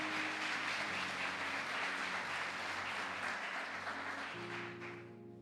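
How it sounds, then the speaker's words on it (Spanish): A church congregation breaks into sustained applause, a dense steady wash of clapping that fades gradually near the end as a soft organ or keyboard chord holds underneath. "denle un aplauso al Señor"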